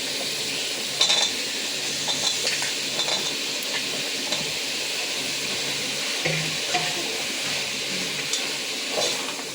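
Carrots, beans and potatoes are stirred in a pot over steady sizzling, with occasional soft scrapes and clinks of a utensil against the pan.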